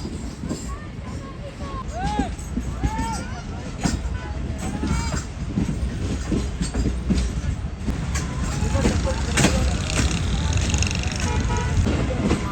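Awam Express passenger train rolling slowly under caution orders, a steady rumble with wheel clatter and squeals continuing throughout while people talk nearby.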